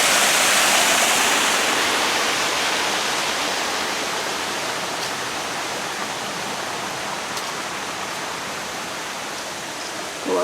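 Water pours over Brandywine Falls in Cuyahoga Valley National Park, heard from the top of the falls as a loud, steady, broadband roar that continues without a break.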